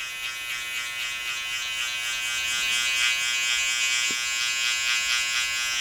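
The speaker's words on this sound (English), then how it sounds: "Skeleton trimmers go on" Skeleton hair trimmers buzz steadily close up, a continuous high electric whine with slight pulsing as they cut hair during a top knot undercut.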